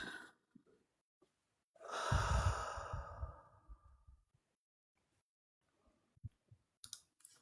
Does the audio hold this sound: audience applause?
no